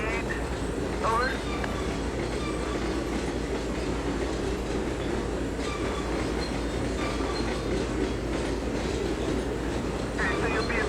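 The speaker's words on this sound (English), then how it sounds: "Sounds like a grain train." A grain train rolls past in the Trainz railroad simulator on a CSX line in Georgia, a continuous loud rumble with clattering wheels and faint squeals, while a radio dispatcher's voice talks over it.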